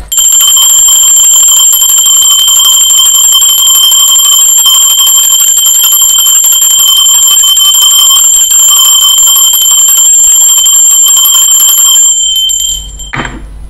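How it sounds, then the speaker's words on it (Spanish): A bell rings loudly and steadily for about twelve seconds with sustained bright tones, then cuts off abruptly, leaving a brief low rumble at the end. "Va campana"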